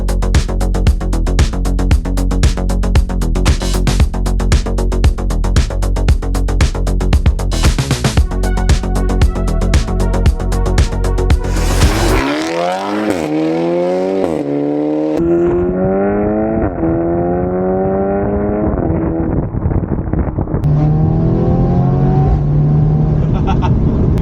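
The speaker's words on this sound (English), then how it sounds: "It is literally amazing how much a car can be brought to life with a decent exhaust." A straight-piped Audi S3 engine, loud and close, pulsing rapidly at idle-like rhythm, then sweeping up and down through revs with rising and falling tones, ending in a steady drone.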